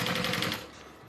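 A sewing machine stitching a backpack seam, giving a fast, close, rhythmic run of stitches that stops after about half a second.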